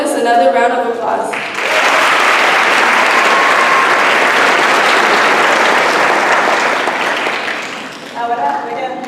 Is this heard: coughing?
no